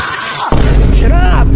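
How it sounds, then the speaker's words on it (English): A firework launched at a player in a video game, set on walls: a sudden loud boom kicks in partway through and holds as a rough, roaring burst with a rising whistle-like tone. "someone's launching the firework at me"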